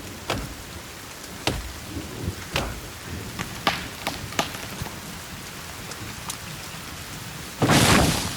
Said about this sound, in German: Und der Regen setzt sich ein.